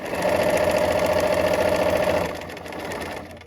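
Sewing machine back stitching a seam, a steady close mechanical whir running for about two seconds before trailing off into quieter hum.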